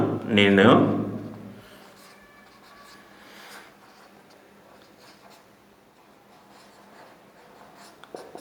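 Chalk or marker scratching on a board in a seventh-grade algebra lesson, a dense burst of writing strokes near the start, then a quieter room with faint rubbing and a small tap at the end.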